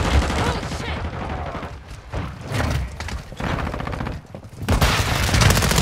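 Gunfire in Call of Duty: Modern Warfare II multiplayer, BAS-P weapon build, with loud bursts of rapid automatic shots in several clusters separated by brief pauses, close and punchy, with occasional game voice lines.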